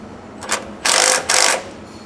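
A ratchet makes a short tick and then two longer buzzing runs of rapid clicks as the Panhard corrector bolts on a LandCruiser 300 are snugged down, close and loud.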